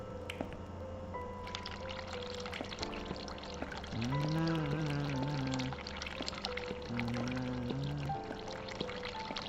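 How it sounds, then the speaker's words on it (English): Hot water pouring in the video game The Cat Lady, a steady, soft stream running for several seconds over quiet, tonal background music. "Let's do the hot water again."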